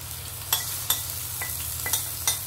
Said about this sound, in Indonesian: Seterusnya saya masukkan serbuk kari ikan.